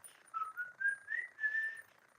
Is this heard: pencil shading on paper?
no